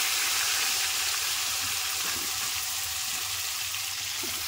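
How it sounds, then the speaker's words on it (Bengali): Vegetable pieces, khopa and pointed gourd, frying in oil over low to medium flame, giving a steady, even crackling hiss throughout with no voices. "এবার এই তেলেতেই আমি খোপাগুলোকেও ভেজে নেব ভালো করে।"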